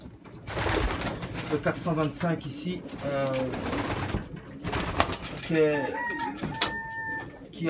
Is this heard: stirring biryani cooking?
no